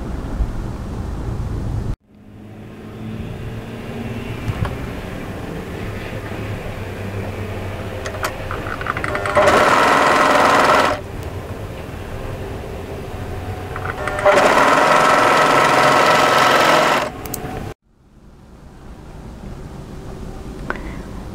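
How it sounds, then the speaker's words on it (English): A home sewing machine stitches the upper and middle sleeve pieces of a turtleneck tunic together in two sustained whirring runs, each a few seconds long, separated by a quieter steady room hum. "we want to sew these together, making sure when we sew them that the middle notch matches"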